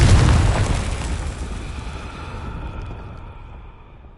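A Confringo spell explodes in a Harry Potter video game, a loud booming blast that hits hard at once and then rumbles and fades away over several seconds.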